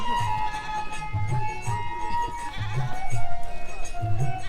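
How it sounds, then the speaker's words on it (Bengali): Goats bleat repeatedly at a livestock market, several short calls scattered through the clip, over a busy background hum with a steady tone. "এই হাটে ছাগল আসা শুরু করে"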